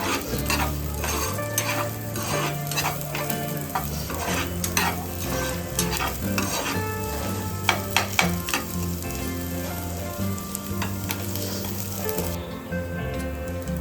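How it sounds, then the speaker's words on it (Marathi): Onions for a spicy Maharashtrian matki misal are sautéed in a pan, giving a steady close sizzle broken by frequent rhythmic scrapes and clinks of a spatula stirring against the metal. "याच्यासाठी मिसळसाठी आपल्याला पूर्ण कांदा एकदम असं काळसर असं नाही करून घ्यायचंय, थोडासा असं लालसर परतून घेऊया आपण।"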